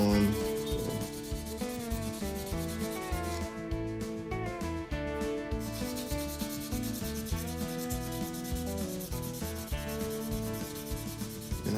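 A vintage Ka-Bar trapper knife is sanded by hand, a rhythmic rubbing scrape repeating throughout with music playing prominently over it.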